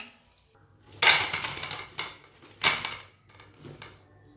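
Dal kebabs, dhaba-style lentil tikiyan, set onto a plate, giving a few sharp clinks and scrapes of kitchenware at close range, with quieter knocks between them and no talk.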